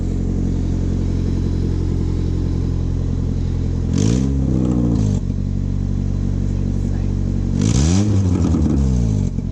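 A Honda Civic engine idles loudly and steadily nearby, then is revved twice, each rev rising sharply in pitch before dropping back to the rough idle.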